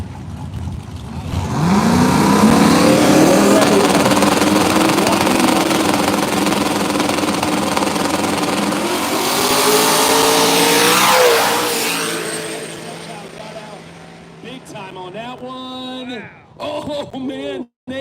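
Two cars launch together in a drag race at a dragstrip, a turbocharged 5-liter LS car against a Chevy S10 with a 4.3 Vortec V6, their engines revving hard and roaring loud for several seconds before fading, with an announcer talking over them.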